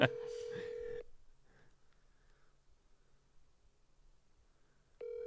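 Two telephone tones sound as a call is placed: one steady tone at the start with a voice over it, then a quiet gap with faint background noise, then the tone starts again.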